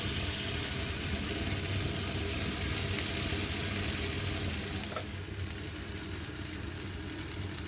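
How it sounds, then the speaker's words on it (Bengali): Chicken shashlik skewers with vegetables sizzle and fry steadily in mustard oil in a pan, a loud, continuous close-up crackle that keeps going without a break and with no voices. "শাসলিকগুলি প্যানে দিয়ে আবারও সরিষার তেল দিয়ে ব্রাশ করে দিচ্ছি"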